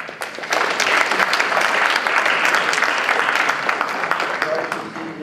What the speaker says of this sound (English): let's give him a big clap for that